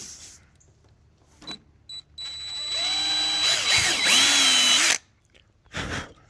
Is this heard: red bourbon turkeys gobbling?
no